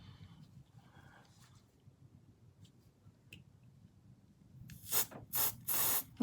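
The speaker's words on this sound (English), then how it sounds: "So a bit of carb cleaner." Carb cleaner sprayed in three short hissing bursts onto carburetor parts from an old Suffolk Punch mower, loud and close, the last burst longest, following quiet shuffling and small clicks.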